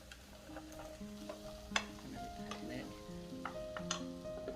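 Vegetables and browned onions stirred and frying in a pan for fried rice, a steady sizzle under repeated scraping and stirring clicks, close and moderately loud.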